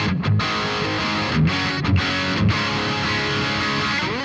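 Crunchy electric guitar through a Marshall Silver Jubilee amp with plate reverb, sustained chords ringing loud and close with a few short breaks between strums, no speech.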